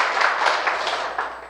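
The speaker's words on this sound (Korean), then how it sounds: "안 죽길 잘했다 생각하면 박수 한 번만 해주세요." Clapping from an audience at a sales seminar, a short, close burst of many hands beating together in a brisk, uneven patter that fades slightly at the end.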